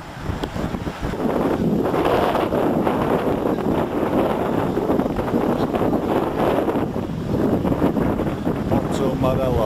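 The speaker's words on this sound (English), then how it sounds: "it's very windy." Strong wind buffeting the microphone on a beach at Playa del Carmen, a loud continuous roar with gusts throughout, with a voice speaking over it.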